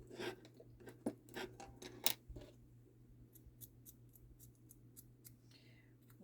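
Paper is cut with scissors in several quick snips, close and soft, followed by lighter, quieter crinkles and clicks.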